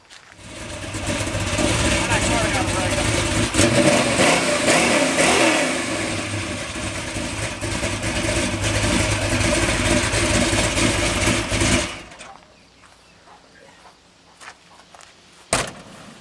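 A Chevrolet S10 truck engine runs loudly nearby, steady with some revving, then cuts off abruptly, leaving quiet with a sharp thump near the end.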